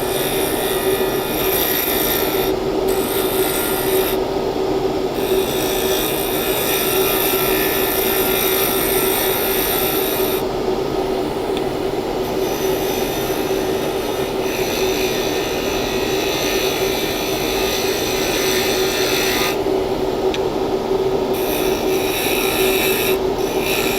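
Tool hogging material off a salt and resin blank spinning on a lathe, a loud continuous rasping scrape over steady motor drone, with brief dips as the cut eases, no voices.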